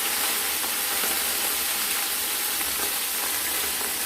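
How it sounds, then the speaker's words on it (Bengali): Katla fish sizzles in hot oil in a pan, a steady, loud, even crackling hiss running unbroken throughout with no voices. "তেলটা গরম হয়ে গেছে এবার আমরা মাছ ছেড়ে দেবো"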